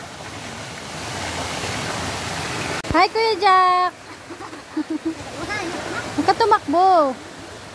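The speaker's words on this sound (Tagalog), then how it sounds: "Ayun guys yung talon." Steady broadband rush of a waterfall at Camp Mahogany runs throughout, loud and close, with children's and adults' voices calling over it in the second half.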